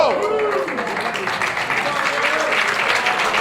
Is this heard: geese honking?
no